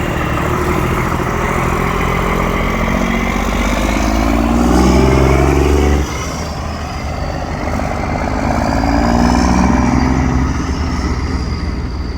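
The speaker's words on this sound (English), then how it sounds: "I think that was a straight through exhaust." A heavy vintage vehicle engine with a straight-through exhaust revs up loudly and drops off, then builds again, a raw, throaty exhaust roar close by, at a vintage vehicle event in Scotland.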